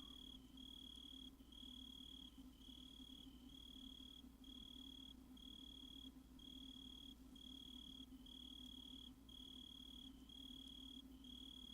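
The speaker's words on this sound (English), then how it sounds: "Just some crickets." Crickets chirp steadily at night in the video game Drowning, a faint, continuous pulsing trill with a low ambient hum beneath it and no other sounds.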